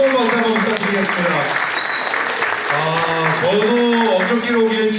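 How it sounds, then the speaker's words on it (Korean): Audience applause at a talk concert held with cancer patients after a musical number, a steady wash of clapping running under a prominent voice that is singing or speaking throughout. "자, 뮤지컬 시청하신 여러분에게 다시 한번 뜨거운 박수 한번 부탁드리겠습니다."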